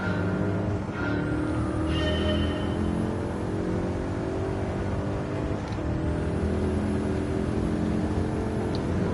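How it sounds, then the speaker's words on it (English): Steady, loud engine drone of a car held at high revs in a racing video game, continuous for several seconds with no talk over it. "Don't want to be revving this car too much though."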